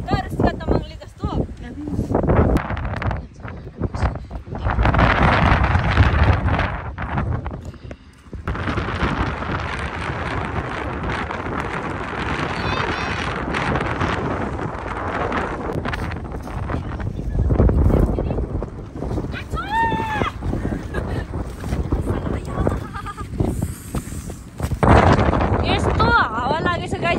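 Strong wind buffets a mountain hiking trail in Nepal, roaring in gusts against the microphone throughout, with people talking over it.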